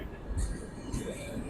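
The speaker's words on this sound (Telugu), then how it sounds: "చూడొచ్చు ట్రైన్ ఇంకా వెళ్తుంది" A passenger train keeps moving through the night at Erraguntla station after people have stepped off. It sends up a low rumbling roll with two hissing bursts, and voices are faintly audible in the background.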